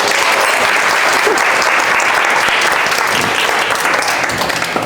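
Audience applause fills a lecture hall at a Korean culinary high school, a dense, steady clapping that holds at full volume for about five seconds and fades slightly at the end.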